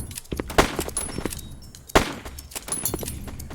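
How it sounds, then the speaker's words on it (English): Pistol shots in the video game Time Shooter 2 ring out as a few sharp, loud cracks, with one near the start and a stronger one near the middle, among smaller clicks and game effects. "Take his pistol. Shoot that guy."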